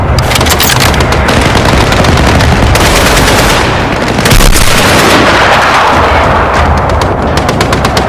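Video game battle with continuous loud machine-gun fire and a heavy grenade blast midway, rapid automatic bursts layered over rumbling explosions throughout.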